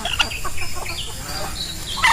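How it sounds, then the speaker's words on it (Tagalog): Chickens in a low coop on a Filipino free-range farm cluck and call in short, scattered bursts, close and busy, with a faint voice underneath. "Nandun sa loob ng pabahay yung mga manok."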